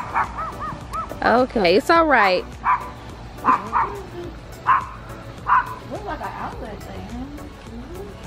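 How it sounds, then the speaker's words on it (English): A small dog yips and barks in high, sharp bursts, some drawn into whines, while a person talks softly over and between them. "I just heard a dog barking."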